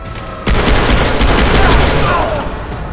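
A loud gunshot rings out in Far Cry 3, a sharp crack that opens into a dense, echoing burst of game gunfire and rumble lasting several seconds.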